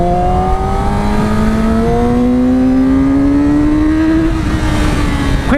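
A 2019 Yamaha R6 sport motorcycle accelerates hard through a quick overtake, its engine note climbing steadily in pitch for several seconds, loud and close against continuous wind rush, with no talking.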